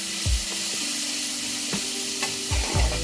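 Finely chopped garlic fries in a pan with a constant bright sizzle, broken by a few low knocks and scrapes of a utensil against the pan.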